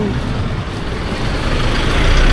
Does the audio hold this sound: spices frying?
no